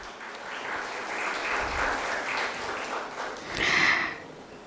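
An audience at a biotech skilling programme session in Gujarat applauds for a managing director, with continuous clapping that swells at the end and a brief spoken voice near the close.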